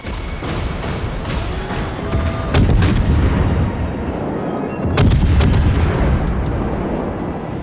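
Enemy ships fire on the player in World of Warships, a dense, loud barrage of heavy gunfire with booming salvos and sharp impact cracks. It rolls on continuously, and bigger surges around the midpoint and toward the end stand out from the steady rumble.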